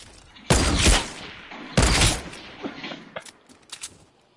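Assault rifle bursts in the video game Fortnite, two sharp loud volleys about a second apart, each trailing off, followed by scattered fainter shots and thuds.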